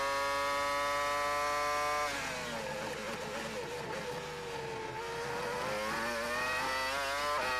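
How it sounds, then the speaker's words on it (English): A McLaren Formula 1 car with a Mercedes V10 engine races at the 2002 Canadian Grand Prix, its high-revving whine dropping as the driver lifts off, then climbing back up under hard throttle. The engine is loud and close, with no talk. "the Mercedes V10 engine working hard in the back of the McLaren"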